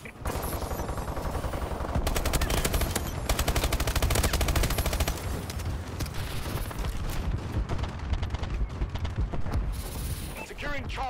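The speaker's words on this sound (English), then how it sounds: "Friendly bombing run clearing the way." Gunfire and explosions from a friendly bombing run in the Call of Duty: Advanced Warfare video game, dense rapid shots and booms filling the mix continuously, with in-game voice callouts mixed in.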